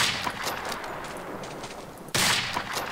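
Gunfire in Medal of Honor: Allied Assault, a quick run of close shots at moderate loudness, then a sudden louder crack near the end, with no talk.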